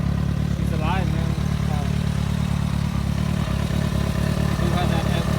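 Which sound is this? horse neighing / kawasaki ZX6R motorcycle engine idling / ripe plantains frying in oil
kawasaki ZX6R motorcycle engine idling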